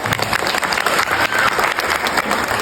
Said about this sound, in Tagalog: Parinig naman ako ng inyong isang malakas na palakpak.